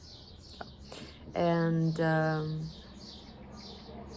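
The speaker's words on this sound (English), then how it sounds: "I'm hearing these birds and they're so loud" Birds call outdoors: two loud, close, tonal calls sound in the middle, with faint chirps before and after, while a person speaks briefly.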